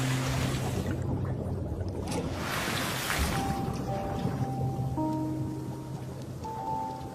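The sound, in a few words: ocean waves and crackling of coral reef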